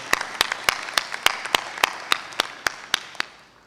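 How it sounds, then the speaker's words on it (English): Rhythmic clapping at a University of Rwanda graduation ceremony for the cultural troupe, sharp claps in a steady, evenly spaced beat over a lighter crowd background. "Can we give them another round of applause, please?"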